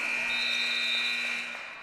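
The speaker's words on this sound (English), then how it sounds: "but the buzzer had went off." A basketball arena buzzer marks the end of the half in a women's college game, Averett against Randolph. It holds as one steady electronic tone for nearly two seconds and fades slightly at the end.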